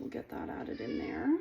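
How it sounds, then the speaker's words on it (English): A house cat meows faintly in the background of a home kitchen while vinegar is added for pickle making, a rising mew at the end under a person's steady talking. "I apologize if you can hear my cat in the background."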